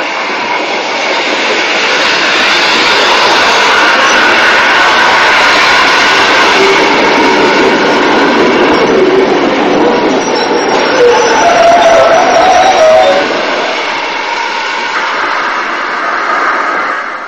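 A loud, steady train hauled by a preserved ex-Great Northern Railway 0-6-0 steam tank locomotive roars past close by, a continuous rumbling drone with brief higher squeals, lasting most of the clip before easing off.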